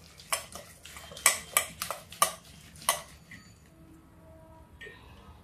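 A spoon knocks and scrapes against a bowl while banana appam batter is stirred smooth, giving a quick series of sharp clinks in an irregular rhythm, close and fairly quiet, then a softer tail of faint clatter.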